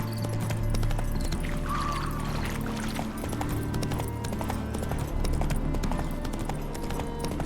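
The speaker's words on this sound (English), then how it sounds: "Spooking my horse. Roach doesn't like ghosts." Roach, the horse in The Witcher 3: Hearts of Stone, clip-clops along in a steady, even walk, the hoofbeats close and continuous beneath swelling game music with no talk.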